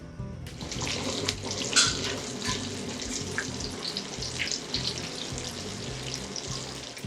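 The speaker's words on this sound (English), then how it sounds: "We're gonna go and fry our tofu now." Tofu frying in hot oil in a pan, a steady dense crackle and sizzle that runs continuously at moderate loudness, with no voices over it.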